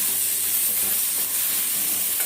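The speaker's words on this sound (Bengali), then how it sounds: "আর দিলাম লাল লঙ্কার গুঁড়ো সব ভালো করে মিশিয়ে আমি সাঁতলে নিচ্ছি" Red chilli powder and spices sizzling in a little oil in a pan while being stirred, a steady broadband hiss held close and even throughout, with no talk.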